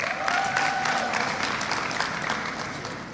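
Steady audience applause fills a university convocation hall at Northern Caribbean University, dense clapping sustained evenly throughout at moderate loudness with no break.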